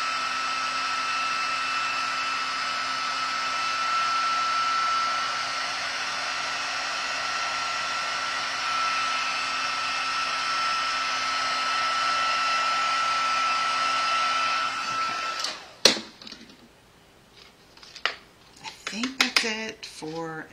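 A heat embossing tool for card crafting blows hot air in a steady, loud whirring hiss for about fifteen seconds, then cuts off, followed by a few clicks and handling clatter.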